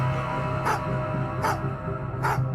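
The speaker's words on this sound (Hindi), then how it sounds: "अचानक कुछ कुत्तों ने भौंकना शुरू किया" Dogs barking at night: three evenly spaced barks, each about three-quarters of a second apart, fairly close, over a steady humming background.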